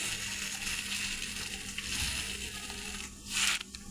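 White sesame, cumin, ginger, garlic and onion being ground into a spice paste, a steady gritty crushing and rubbing sound up close, ending in a brief louder scrape.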